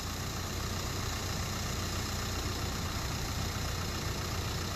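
A 1600cc Lion motorcycle engine idles steadily, a constant low rumble with a broad noisy wash and no change in pace, heard alone without speech.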